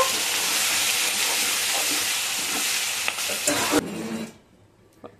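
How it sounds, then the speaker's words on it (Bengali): Prawns fry in hot mustard oil, a loud, dense, continuous sizzle close to the listener with a few clinks, cutting off abruptly near the end to near silence. "এবার হচ্ছে তেলে চিংড়ি মাছটা দিয়ে দেব।"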